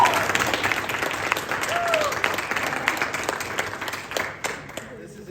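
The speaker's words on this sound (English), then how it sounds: "how about just a round of applause?" A crowd applauds Emily Vanderbilt, sustained clapping at steady volume for several seconds before thinning toward the end, with some murmuring voices mixed in.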